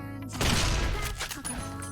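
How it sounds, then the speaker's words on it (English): Gunfire in the video game Fallout New Vegas comes as a quick, crackling burst of shots with a short follow-up, set against quiet game background sound. "Wait, who's firing upon me?"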